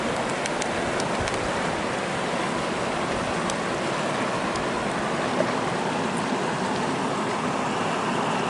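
Steady rushing and splashing of the upper Sacramento River's flowing water high in the mountains near its source, a dense, even wash of sound with no voices.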